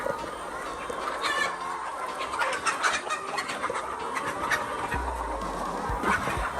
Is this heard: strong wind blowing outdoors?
no